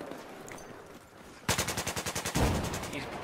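Automatic gunfire in Battlefield 4 multiplayer, a loud rapid burst of evenly spaced shots starting abruptly after a quieter stretch, ending in a heavier blast that rings out.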